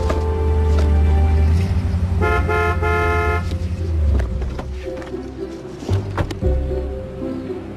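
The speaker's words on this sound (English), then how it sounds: "You honking at me?" A car horn honks in long sustained blasts, then a shorter toot, loud and close over a low engine rumble, with a few thumps afterward.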